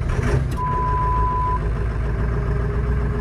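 Old diesel truck engine idling roughly after a cold start in freezing winter weather, a steady loud low rumble throughout, with a thin whine in the first part.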